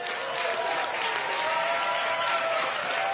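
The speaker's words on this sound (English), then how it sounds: "Can I get one last cheer for the Youth Climate Summit" Audience at the UN Youth Climate Summit applauds and cheers in a steady, dense wash of clapping that fills the whole moment without pause.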